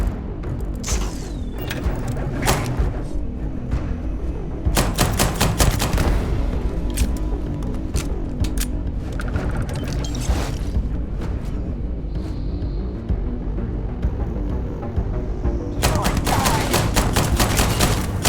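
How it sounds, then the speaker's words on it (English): Rapid bursts of gunfire crackle through a sci-fi combat fight in the video game Starfield, with loud volleys repeating in clusters and brief pauses between them. "Open fire! Commencing combat."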